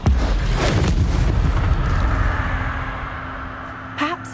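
Incendio fire spell cast in Hogwarts Legacy, a loud booming burst of flame at the start that rumbles and fades over several seconds, with a faint spell shimmer near the end.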